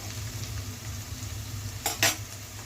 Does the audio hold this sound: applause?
no